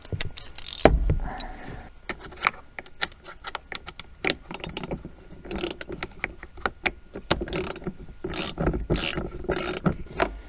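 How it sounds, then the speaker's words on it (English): A ratchet with a deep socket tightens a Torx bolt while fitting fender flares to a Can-Am Defender side-by-side, giving close, repeated clicking and clinking bursts with brief pauses in between, no talking. "put the deep socket on the ratchet"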